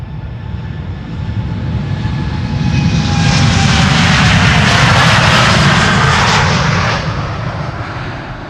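A Finnair airliner approaches Schiphol Airport, its engine roar swelling loudly as it nears overhead, peaking midway with whining tones, then easing off at the end; no talking.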